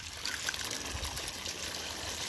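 Water trickling and dribbling steadily over a llama outdoors in the early morning, a continuous close splashing wash with no break.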